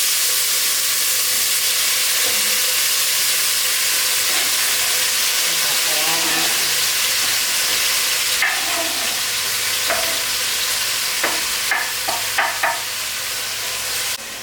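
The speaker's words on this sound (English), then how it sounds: "we're going to add our ingredients to the oil and let it sizzle up a little bit" Ingredients for Jamaican brown stew chicken hit hot oil in a pan and sizzle with a loud, continuous hiss, while utensils clink and scrape intermittently toward the end as the pan is stirred.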